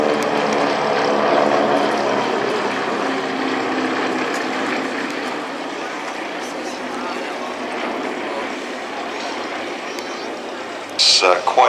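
Vintage propeller aircraft, including a Hurricane and Sea Hurricane, flying in formation at an airshow, a broad continuous engine drone held throughout that eases slightly after the opening seconds, with a brief louder burst near the end.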